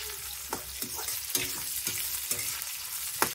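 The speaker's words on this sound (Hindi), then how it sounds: "तो थोड़ी देर जो है प्याज को पका लेते हैं।" Chopped onion, cut chillies and asafoetida fry in a pan, a soft continuous sizzle broken by repeated sharp spatula knocks and scrapes as the mix is stirred. No voices.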